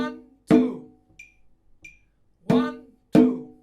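A percussion instrument plays a short accented rhythm cell. Loud, resonant strokes alternate with much softer taps, the accented hits ringing out close and clear against silence.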